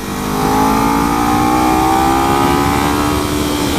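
A Kawasaki Ninja motorcycle engine revs hard and accelerates in third gear from 6,000 RPM, a loud, steady rising whine with climbing pitch that holds close throughout.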